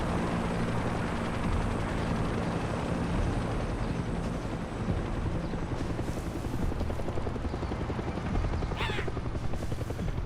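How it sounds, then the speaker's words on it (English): A helicopter in the Far Cry 6 video game drones steadily with a continuous rotor rumble at a distance, mixed with a broad background wash and a few faint brief sounds, holding a constant level throughout. "I hear a helicopter in the distance."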